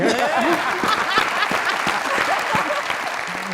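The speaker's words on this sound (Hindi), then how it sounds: "जरा तालियां" Studio audience at a live comedy talk show breaking into loud, dense applause for several seconds, close and full, with a few chuckles and voices threaded through the clapping.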